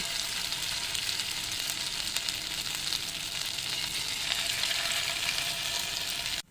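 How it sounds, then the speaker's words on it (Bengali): Potato fries bubble in hot oil in a wok, giving a dense, continuous sizzle that holds steady and close before cutting off abruptly at the end. "একে একে তেলের মধ্যে ছেড়ে এগুলো ভেজে নেব।"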